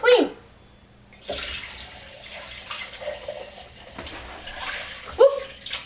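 Fresh milk is poured through a strainer into glass jars sitting in a sink, with soft liquid trickling and splashing interrupted by a few sharp clinks and knocks against the glass.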